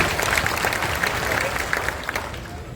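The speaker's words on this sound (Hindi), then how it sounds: "अपने लिए जोरदार ताली बजाइए" Audience applause fills the space at a talk on social media, a dense, steady wash of many hands clapping at moderate level throughout.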